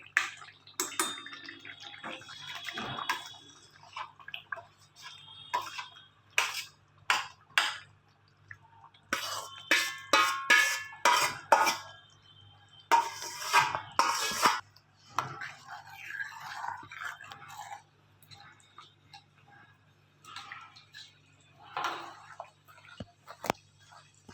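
Crushed vegetables tipped into spiced gravy in a pan for a fasting-style bhaji, giving irregular wet plops, scrapes and clinks in clustered bursts, close and moderately loud, with quiet gaps and a low steady hum underneath.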